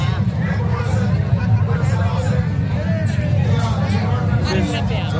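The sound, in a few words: crowd hubbub at a fair during an award show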